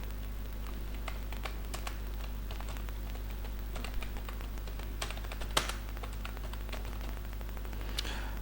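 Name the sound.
typing text on a computer keyboard in Microsoft Word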